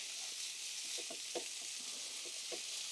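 Spices being stirred into a sizzling shakshuka pan, a faint, steady hiss of frying with several soft scraping stirs mixed into it, close and quiet with nobody speaking.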